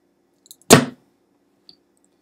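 A soap cutter makes a single short, sharp cut through a soft block of soap, a quick slicing thud, followed by a faint small click a second later; no talking.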